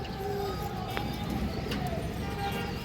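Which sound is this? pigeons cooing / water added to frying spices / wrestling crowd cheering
pigeons cooing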